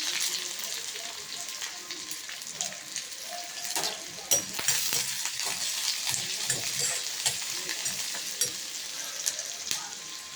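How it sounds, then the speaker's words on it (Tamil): Onion added to hot oil with popping mustard seeds in a pan, sizzling and crackling steadily with scattered sharp pops, close by and fairly soft overall. "இப்போ வெங்காயம் போட்டுருங்க."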